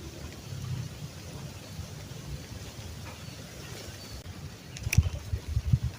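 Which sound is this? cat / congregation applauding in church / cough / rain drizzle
rain drizzle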